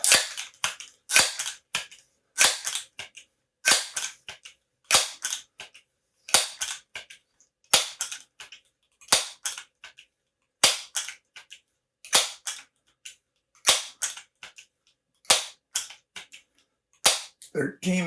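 Crosman 1377 air pistol firing repeated loud, sharp shots in a steady rhythm roughly every second, each crack close and distinct with brief quiet gaps between.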